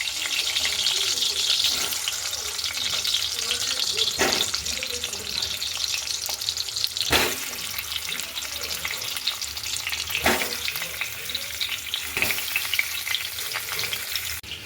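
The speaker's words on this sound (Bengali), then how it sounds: "তো এই তেলে আমি এবার আলুগুলো ভেজে নেব।" Potatoes fry in oil with a loud, constant close sizzle and crackle, broken by a few sharp knocks and stirring scrapes, with some faint watery background noise.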